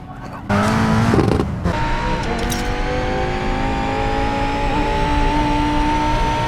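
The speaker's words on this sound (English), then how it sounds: "You can find it from the sound of the car" A racing car engine in the video game Racing Master revs and screams at high pitch, holding a steady roaring tone after a sharp burst of acceleration.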